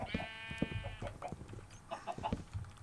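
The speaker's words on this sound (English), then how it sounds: "Now the chickens, I need to push back in because one of them basically got out." Farm chickens cluck in a video game, short clucks scattered across a busy game soundscape with other livestock calls mixed in, moderately close.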